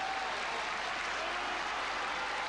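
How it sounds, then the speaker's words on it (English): Local crowd at a 2001 Kyushu sumo tournament applauding and cheering a hometown wrestler, a steady, dense wash of clapping that holds evenly throughout at moderate distance. "It's the local crowd cheering the local boy."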